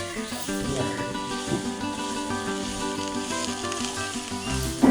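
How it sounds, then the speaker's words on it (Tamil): Mustard seeds and curry leaves sizzling in hot oil for a tempering for coconut chutney, with a steady close crackle and hiss running throughout, with a louder pop at the end. "இப்போ இதுக்கு ஒரு தாளிப்பு போட போகிறோம். ஆயில்மா, இதுவும் கொஞ்சம் கடுகு. இப்போ இதில் கொஞ்சம் கருவேப்பிலை போடுவோம்."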